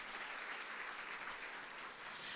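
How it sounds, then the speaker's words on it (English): A crowd claps steadily, a dense, even wash of applause with no pauses, fairly distant. "Give them a big round of applause."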